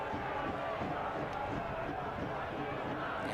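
Dense murmur of a football stadium crowd at a Detroit City FC versus Loudoun United FC match, a steady restless roar from far off with faint voices mixed in.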